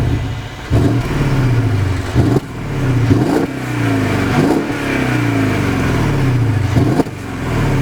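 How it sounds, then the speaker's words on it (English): The V8 engine of a 2013 Mercedes-Benz CLS550 4MATIC is revved repeatedly up close after a keyless start, each sharp roar rising and falling in pitch, several blips in quick succession over a steady idle. "This car is keyless start, so all you have to do is just put the key in your pocket"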